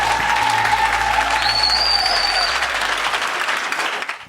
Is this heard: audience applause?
yes